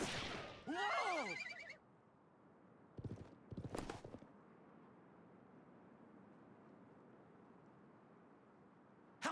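A horse neighs loudly in the Wild West chapter of the video game Live A Live, its whinny falling in pitch, followed by a few sharp percussive bursts of hooves or shots, then a low steady background without talk.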